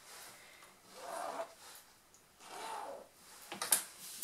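Marker or chalk drawn across lining fabric to trace 10 by 10 cm corners, giving two soft scratchy strokes followed by a short sharper scrape near the end, quiet and close.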